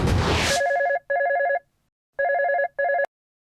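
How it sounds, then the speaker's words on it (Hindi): A telephone rings in a domestic drama scene, repeating bursts of a bright trilling electronic ring separated by short silences, loud and close, with no speech. "मैं अभी माँ को फोन करती हूँ।"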